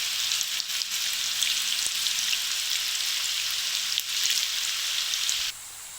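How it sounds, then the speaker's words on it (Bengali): Raw banana fries sizzle in hot oil, a loud, steady hiss with a few faint clinks, cutting off abruptly near the end. "এগুলো এখন তেলের মধ্যে দিয়ে দেবো। এগুলোর উপরে আমি বাদামি রং করে এগুলোকে ভেজে নেব"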